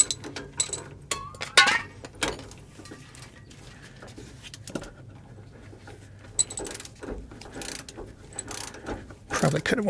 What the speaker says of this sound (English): let's pop our socket on our torque wrench, hit it to 33